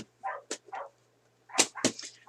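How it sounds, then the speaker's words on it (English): Dogs bark somewhere in a home while crafts are being made with pins, giving a few sharp, fairly close yips and barks scattered over a quiet hum. "I swear it's dog barking heaven here"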